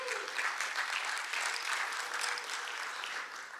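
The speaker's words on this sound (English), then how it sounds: "Yeah, you can clap for that." A church congregation breaks into warm applause, a steady wash of many hands clapping at moderate distance that holds evenly before tapering slightly at the end.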